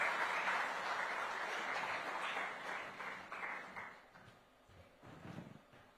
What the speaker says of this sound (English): A huge round of applause once more for India's menstrual man.